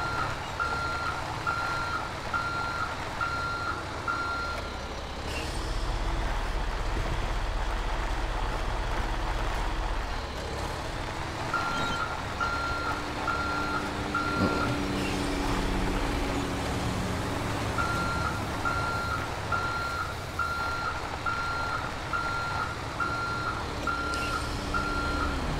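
Repeated reversing beeps from a garbage truck in a driving video game, steady evenly spaced tones over a continuous engine rumble, pausing briefly and resuming, with no talking.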